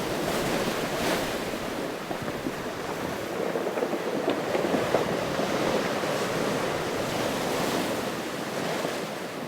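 Winter sea waves at Gangneung crash against large rocks in a steady, loud roar of surf, mixed with wind noise and no voices.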